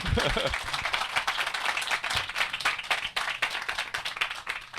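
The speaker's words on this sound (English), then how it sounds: "Round of applause. Give it up for John Eisenberg." An audience at a book festival applauds author John Eisenberg, with dense, steady clapping from a crowd that carries on through the whole stretch, close and fairly loud, with a voice briefly heard over it at the start.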